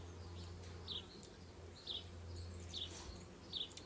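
A swarm of honeybees with a marked queen hums in a low, steady drone, with brief louder buzzes passing close by at regular intervals.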